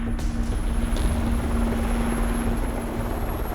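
A helicopter taking off for an aerial search in snowy Alaskan country, its rotor and engine roaring loudly and steadily throughout with a constant droning hum, close by, no voices.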